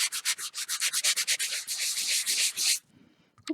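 Cardstock being sanded in quick, even back-and-forth strokes, a close, loud rhythmic rasp that stops abruptly, followed by faint handling noises.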